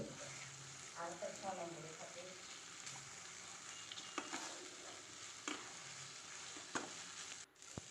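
Chopped onion being stirred into a frying chicken stew masala, gentle sizzling with soft spoon scrapes, quiet and close, with a faint voice heard briefly near the start.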